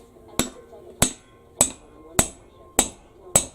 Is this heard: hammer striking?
yes